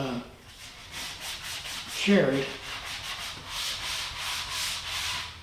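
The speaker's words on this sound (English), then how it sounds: "Let me do some hand sanding and then we'll stain these things." Steady back-and-forth scratchy strokes of hand sanding on a wooden chest of drawers, close and rhythmic, with a brief spoken word partway through.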